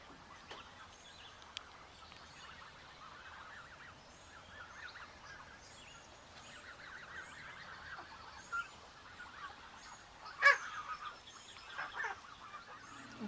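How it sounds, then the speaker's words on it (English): Geese honk outdoors in a garden setting, a scattered series of calls of varied loudness with a louder burst near the end over a quiet background. "Look at these crazy geese."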